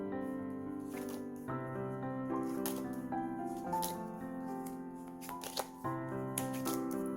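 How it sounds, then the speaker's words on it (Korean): Tarot cards are shuffled and drawn in short rustling bursts, layered over steady background music that plays throughout. "메인 카드 일단 뽑고 리딩을 하겠습니다."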